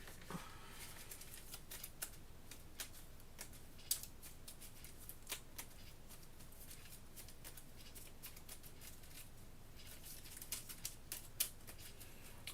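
Cards from the Kingdom Death: Monster board game are shuffled by hand at close range, a run of quick, crisp riffles and snaps with irregular sharp clicks, fairly quiet and with no voices.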